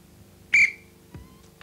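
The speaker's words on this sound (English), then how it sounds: "I'm about to blow the whistle." A referee's whistle gives a single sharp, short blast to start a children's game, near and clear over a quiet room, followed by a faint thud.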